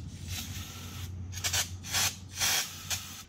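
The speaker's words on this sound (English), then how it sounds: "Spraying and wiping, that'll get the rest of the grease to come out." Brake cleaner is sprayed onto greasy wheel bearing parts from a Ford E350 in short hissing bursts, four or five quick sprays in a row, close and fairly quiet, with light rubbing between them.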